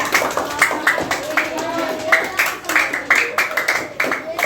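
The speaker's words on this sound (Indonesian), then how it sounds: "beri tepuk tangan untuk kelompok 3" Classmates clap for a presenting group during a lesson, with scattered, irregular hand claps of moderate loudness over a murmur of voices in the classroom.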